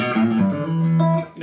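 Electric guitar with a touch of spring reverb: one sustained, ringing chord and a few notes fading with a splashy tail, brief, close and moderately loud, no voices.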